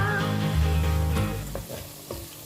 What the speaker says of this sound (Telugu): చూడండి పచ్చిమిరపకాయలు వేగిపోతున్నాయి.